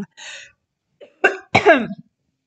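A few short coughs close by, a brief one followed by two harsher, louder bursts with a raspy throat-clearing edge, separated by silence.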